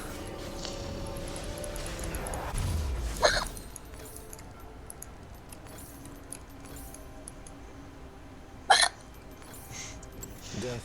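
A person gives two short, sharp hiccups several seconds apart, heard close over a quiet room with faint background game sounds and clinks.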